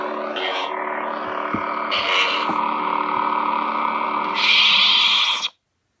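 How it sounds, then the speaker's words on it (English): A SaberForge Redeemer lightsaber hums steadily, with sharp clash hits and swelling swing whooshes layered over the drone before it cuts off abruptly near the end. "Nice clash effects along with the humming and the swinging."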